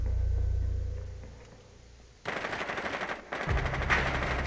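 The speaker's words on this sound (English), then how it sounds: "Someone's sniping back stairs" Rapid automatic gunfire in Rainbow Six Siege crackles in a close, loud stream, cutting off briefly before resuming, preceded by a quieter low rumble of in-game ambience.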